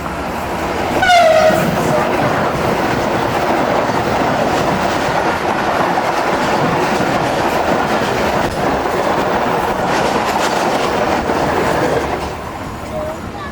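Musa Pak Express railcar running on the tracks near Pattoki railway station, a loud continuous rumble and rattle of wheels throughout, with a brief horn-like tone near the start.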